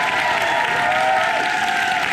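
A dance contest audience applauds after a performance, dense loud clapping and crowd noise sustained throughout.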